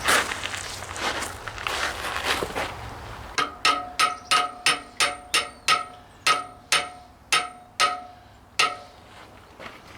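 Steady run of about a dozen sharp metallic hammer taps, evenly spaced and close, as a new tube is driven into an old lap seam boiler, following a stretch of rougher clattering work noise.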